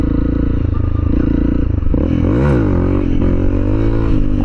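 A Honda CRF300L motorcycle with a Black Widow exhaust runs loud and close, its engine note droning low and then rising and falling in a brief rev.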